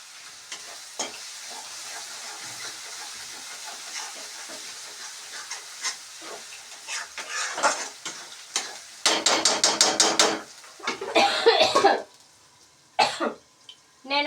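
Egg curry stirred in a pan, scraping and sizzling with bursts of steam and clatter, busiest in the second half with louder rhythmic stirring strokes near the mic.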